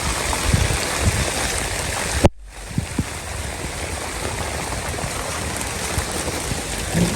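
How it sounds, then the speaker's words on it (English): Steady rain falling outdoors on a farm, a dense continuous hiss of drops with a brief break partway through, fairly loud and close throughout. "You know it's raining, right?"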